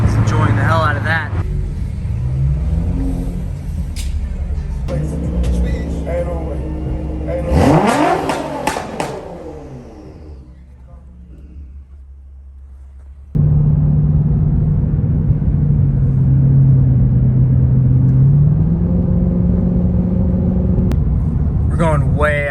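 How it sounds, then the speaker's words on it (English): A car engine with blowout valves in the exhaust revs and rumbles while people talk over it, with a sudden louder steady engine drone later and a few sharp bursts. "And the exhaust, of course, but mainly the blowout valves."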